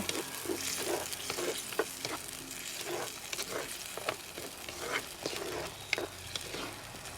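Oil sizzles and bubbles in a pan while a utensil stirs bitter gourd stir-fry, with scattered soft scrapes and pops over a steady frying hiss.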